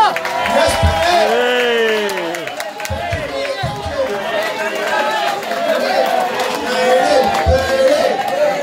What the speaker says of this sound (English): let's take a big round of applause for Benny